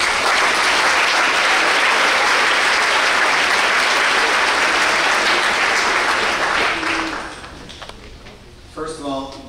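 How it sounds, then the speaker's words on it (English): Audience applause at an evening scholarship award celebration, loud and sustained for about seven seconds before fading, with a voice beginning to speak as the clapping dies down. "So give him a round of applause while he reads the rest of the scholarship."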